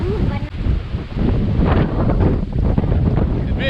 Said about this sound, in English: It really is blowing a hoolie round here